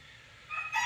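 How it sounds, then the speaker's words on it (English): A rooster crows in the video game Sugar Shack, a brief call rising at the very end of a quiet moment, fairly faint and alone. "you can hear some good rooster action nearby"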